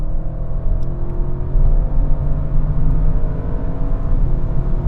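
Audi RS6 and Tesla Model X in a rolling drag race from 70 mph, the Audi in fourth gear: a steady, loud engine and road roar with a low rumbling drone that holds throughout, no voices.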